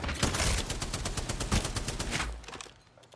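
Rapid bursts of automatic gunfire in an Apex Legends ranked match, a dense, loud fusillade of overlapping shots that continues steadily before thinning out near the end.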